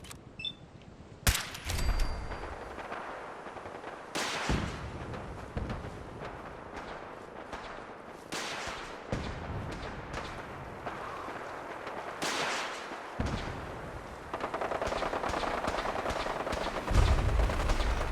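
Gunfire in Fallout 4, several sharp loud bursts and single shots spread across a busy combat soundscape, with a steady rumble between them and louder firing toward the end.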